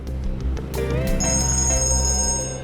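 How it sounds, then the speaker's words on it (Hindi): A phone rings loudly with an electronic trilling tone over a low background hum, the ring sustained for a couple of seconds. "एक मिनट, फोन आ रहा है।"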